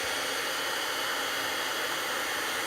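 Embossing heat tool blowing hot air to melt powder, a steady loud broadband whoosh with no change throughout, close to the listener and without talking.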